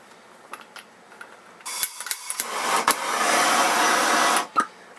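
A MAPP gas torch heats copper and a fluxed brazing rod, its steady roaring hiss building after quiet scrapes and clicks and holding loud for a couple of seconds before cutting off, with a few sharp taps at the end.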